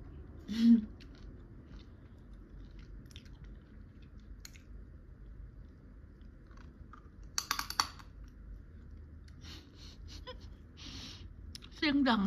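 Crab claws are bitten and chewed up close at a home meal, with quiet crunches and cracks scattered through a mostly hushed stretch and a little speech at the start and end.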